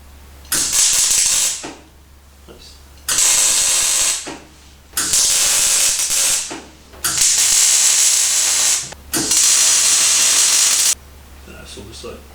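Welding on a Kawasaki bobber motorcycle frame produces loud, steady hissing, crackling bursts in five runs of a few seconds each, separated by short quiet pauses close by.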